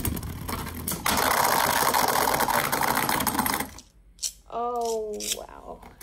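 Beyblade spinning tops, including World Spriggan, whir and scrape steadily in a plastic stadium for a few seconds before the sound cuts off, then a voice speaks briefly up close.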